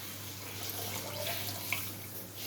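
Dissolved liquid poured into a simmering pot of bottle gourd curry, a soft continuous watery trickle at close range, steady and fairly faint, with no talking.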